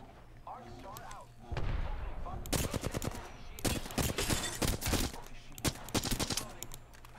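Rapid bursts of gunfire in the Apex Legends battle royale, loud, dense and overlapping over several seconds, some volleys close and sharp, with game sounds and a voice briefly heard beforehand.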